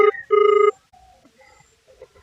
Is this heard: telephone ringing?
yes